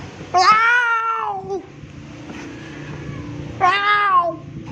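A cat gives two loud, close meows a few seconds apart, each a drawn-out, rising-then-falling wail, with quiet background between them.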